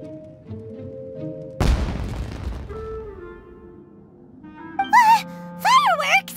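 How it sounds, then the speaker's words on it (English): In the Genshin Impact video game, a sudden loud firework blast booms and crackles as it decays over about a second, and then people talk. "It sounded like fireworks."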